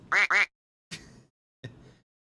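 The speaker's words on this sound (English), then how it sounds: "I got like this little duck button." A toy duck sound button quacks twice in quick, loud succession, then gives two shorter, fainter quacks after brief pauses, each standing alone against silence.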